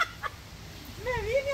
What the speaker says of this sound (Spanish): Pollito.